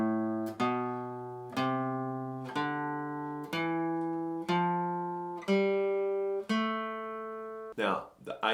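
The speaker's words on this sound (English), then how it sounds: "So if we play through the A natural minor scale, it sounds like this." A guitar plays the A natural minor scale one note at a time, eight evenly spaced plucked notes ringing and decaying in a steady ascending run, heard alone and close.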